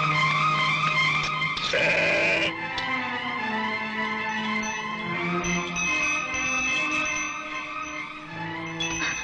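A sheep in a village film scene, about to be sold to a butcher, bleats in several wavering, drawn-out cries, close and fairly clear over a soft background, with no talking.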